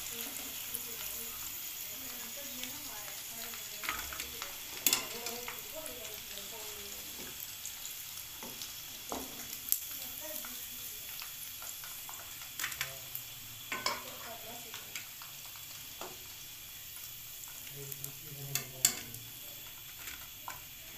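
Spicy chicken fingers deep frying in hot oil, a constant crackling sizzle broken by occasional clinks and scrapes of stirring, heard close with no one talking.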